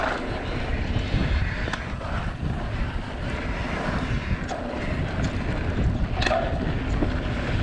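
Riding a 2020 Revel Rascal motorcycle brings steady rushing wind buffeting against the microphone, with a low engine drone blended into the roar for the whole stretch and no speech.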